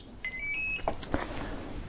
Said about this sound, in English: you get the normal sort of confirmation beep